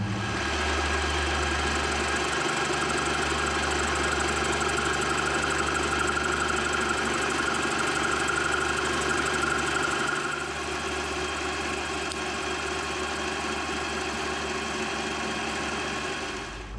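A metal-cutting machine takes a slow, shallow cut about 25 thou deep at a slow feed while shaping a steel bevel square. It makes a steady, loud, continuous mechanical drone with a constant motor hum throughout, easing slightly partway through.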